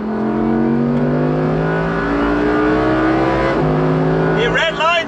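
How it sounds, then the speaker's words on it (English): An Audi R8 V10 Performance supercar's V10 engine revs up loudly in rising sweeps, drops, then climbs again with a sharp, close wail. "There's no big kind of overrun barks and crackles and pops and things, which I know many of you will like, but man, does that V10 sound good."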